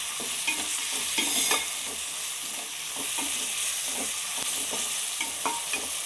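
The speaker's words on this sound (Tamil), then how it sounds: "அதையும் பொடியாக கட் பண்ணி சேர்த்துடலாம். எல்லாம் சேர்ந்து வதங்கி வரட்டும்." Finely chopped tomatoes sauté in a pan for a traditional paruppu urundai kuzhambu, with a steady sizzle and repeated scraping stirs, close and continuous throughout.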